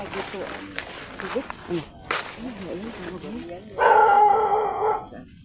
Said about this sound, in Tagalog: Anong may aso? Ano yan?